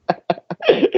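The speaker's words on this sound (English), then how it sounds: "I coughed, but I do not have COVID-19." A person coughs three times in quick, sharp bursts close to the microphone, followed by a brief rougher voiced sound.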